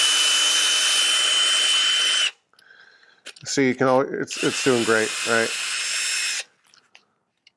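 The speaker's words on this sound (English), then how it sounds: "load one of these carriage bolts into the drill, lock that in place. And again, I got a piece of this 220 grit sandpaper" A power drill spins a carriage bolt against a piece of 220 grit sandpaper in two loud sustained runs separated by a short pause, with someone speaking over the second run.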